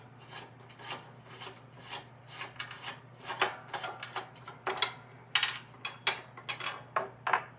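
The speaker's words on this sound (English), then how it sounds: "I'm going to have to unscrew that off the bolt." A nut is worked off a bolt on the drive train of a 33-inch Snapper mower, giving a quiet series of short scraping, rasping metal strokes that grow sharper and closer together, over a faint low hum.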